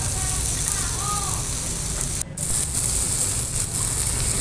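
Boneless milkfish grilling over a low fire, giving a steady close hiss and crackle of sizzling that runs throughout, with a brief dip partway through.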